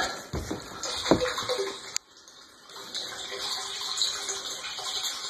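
Water from a 1.5-inch hydraulic ram pump, fed from a spring, pours into a 275 gallon plastic tote in a steady close splashing trickle, with a couple of louder knocks early on.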